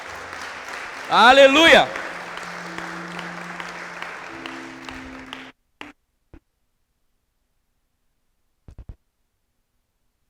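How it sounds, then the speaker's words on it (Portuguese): Church congregation applauding during an evening service, a sustained wash of clapping under a loud shouted exclamation, then cutting off abruptly into near silence with a few faint knocks. "aplaude o Senhor nessa noite"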